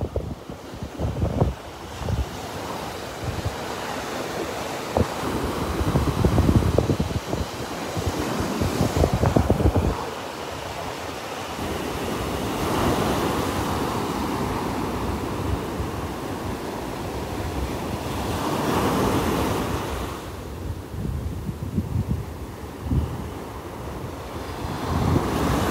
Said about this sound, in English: They don't seem to be intimidated by the waves at all.